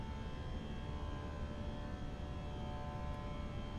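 Airliner engines at climb throttle on a Heathrow to Zurich flight, likely in a flight simulator, produce a steady, unbroken roar with a faint tonal whine running throughout and no voices.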